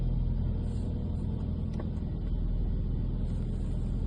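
A BMW E90 engine idles steadily after start-up, a continuous low rumble close by with a faint brief tick midway and no talk.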